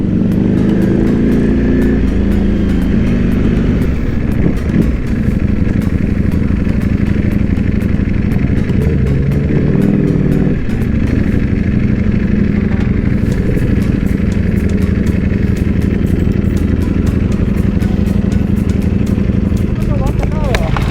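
Sport motorcycles, a Ducati V4SR and a Kawasaki H2, ride close by with a loud continuous engine drone and rough mechanical clatter for the full stretch, while people talk and shout over it.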